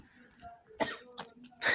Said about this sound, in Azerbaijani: Öskürməyim, öskürsün də.